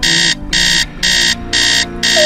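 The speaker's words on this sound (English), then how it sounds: "Set the alarm for 7." An alarm clock rings inside a video game, its loud electronic beeping sounding in even bursts of about half a second with short gaps, five bursts in a row and no talking.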